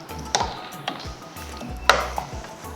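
Vegetable sambar with drumstick being stirred in a pot, a few soft scraping and knocking strokes of a ladle against the vessel over a low hum, close and without speech.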